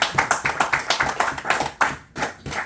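A church congregation claps for Jesus Christ in strong, rhythmic unison, loud and close, with a steady beat of hand claps, a brief break, then a few more claps.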